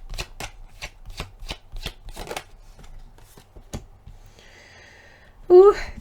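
A tarot deck is shuffled with a run of crisp, evenly spaced card riffles and slaps close by, followed by a short pause and a brief burst of voice at the end.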